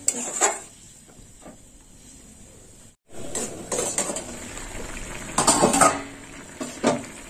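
A lid goes onto a pot of simmering soybean curry, bringing scattered metallic clanks and a scrape close by over a faint background hum.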